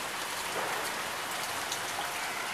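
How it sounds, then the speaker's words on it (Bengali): Rain falls steadily in a dense, even hiss, close and unbroken, with no voices. "এই সময় বৃষ্টি।"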